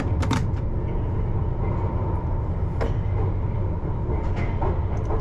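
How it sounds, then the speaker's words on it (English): A Piccadilly Line underground train pulls into Wood Green Station, a continuous low rumble with rail clatter and a few sharp squeals and clicks from the wheels, close and steady throughout. "we are approaching Wood Green Station, where this train will terminate"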